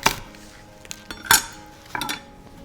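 A knife cutting rhubarb stalks into equal batons on a board: several distinct, fairly loud knocks and clatters spaced irregularly, with lighter taps between them, close up and without speech.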